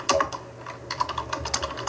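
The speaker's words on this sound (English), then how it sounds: "You're typing hard." Hard, fast typing on a computer keyboard, close and loud, with a steady run of sharp key clicks and heavier clacks during a break in conversation.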